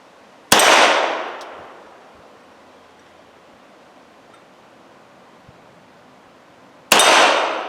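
Two sharp, loud shots ring out from a Beretta 92FSR pistol fired outdoors, spaced about six seconds apart, each with a bright crack and a long fading echo against a steady background hiss.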